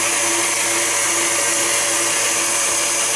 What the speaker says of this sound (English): We mix that all together.